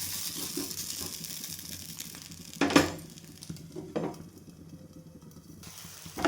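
Thin neer dosa batter sizzles softly on a hot pan, a quiet steady crackle broken by a few clinks of utensils and a lid being handled.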